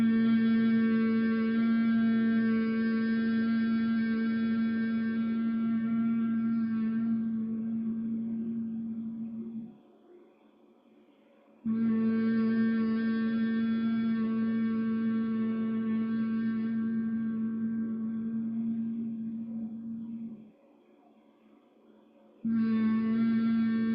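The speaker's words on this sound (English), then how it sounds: "That's that bumblebee breath we love so much." Long humming exhales of yoga bumblebee breath, a steady low hum held about ten seconds each, broken by short quiet pauses for inhaling, soft and close, with no talking.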